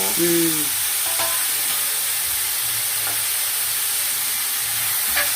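Potato pieces with curry leaves and coriander sauté in a pan, giving a steady, close hiss of frying with a few faint stirring touches, and a brief voice right at the start.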